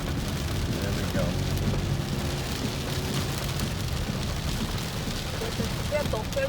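Heavy rain pouring down with strong wind in Udon Thani, Thailand, heard from a moving vehicle at a roundabout: a dense, steady hiss of rain and road spray, with faint traffic beneath.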